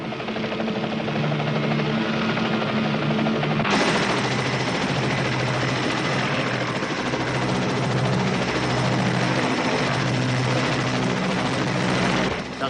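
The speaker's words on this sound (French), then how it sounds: "Il y a un hélicoptère qui se dirige droit sur vous." Helicopter approaching a group of soldiers, a loud continuous low rotor drone that swells sharply after a few seconds and holds steady, with rumbling engine noise beneath.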